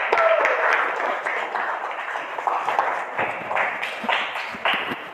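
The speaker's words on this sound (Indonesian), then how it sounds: "Tepuk tangan buat kita semua." A class of students claps together at the start of a vocational welding lesson, a steady moderately loud patter of hands lasting several seconds without speech over it.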